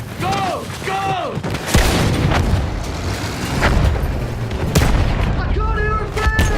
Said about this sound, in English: Field gun!